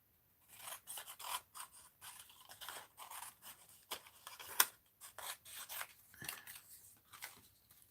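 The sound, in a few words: scissors trimming paper for art journal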